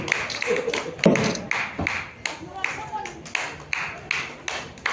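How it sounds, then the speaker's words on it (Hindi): Audience clapping for a performer at a ladies' police patrol team felicitation event, a dense patter of hand claps with sharper taps and a few thuds, steady and fairly close. "इनके लिए एक बार ताली तो दे सकते हैं"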